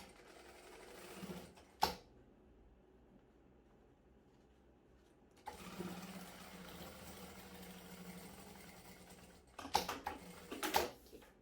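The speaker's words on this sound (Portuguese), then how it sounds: "E a gente vai passar uma costura aqui por cima." A sewing machine runs a topstitch over the seam of a handmade cosmetic bag, a short rattling burst early, then a longer steady whirring run, followed by quick stop-start clicks near the end, fairly faint and close.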